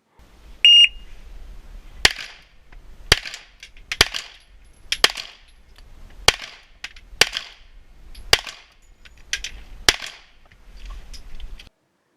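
A CZ 75B all-metal pistol fired at a shooting range, nine sharp, loud cracks at a steady pace roughly one per second, each followed by a short ringing tail, with a brief beep just before.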